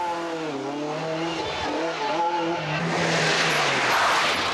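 A 1994 Circuit of Ireland rally car pulls away from the start, its engine climbing through rising revs, then giving way to a loud, steady roar and rushing noise as it speeds off.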